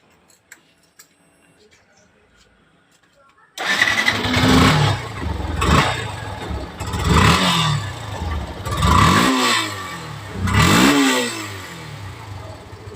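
A Yamaha FZ BS3 motorcycle with faulty rewired wiring starts up after a quiet lead-in, then idles loudly and revs in several rising bursts, nearby and alone without talk.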